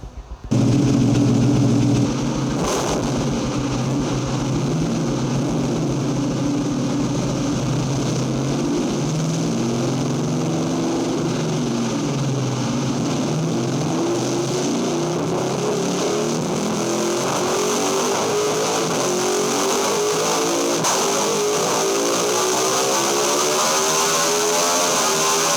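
A Ducati Panigale V2 motorcycle engine runs on a dyno, a steady loud droning roar held throughout with a harmonic pitch that slowly sweeps and shifts as revs change, with no pause.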